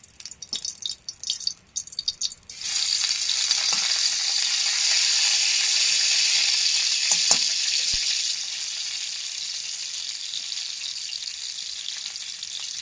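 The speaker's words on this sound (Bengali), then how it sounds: "এই যে একটু গরম হলে এখানে রসুন কাটা আছে আমি দিয়ে দেবো" Chopped garlic hits hot oil with a sudden loud, steady sizzle that swells after a quieter start and then settles to a continuous crackling fry, close and alone with no talking, before jute greens go in.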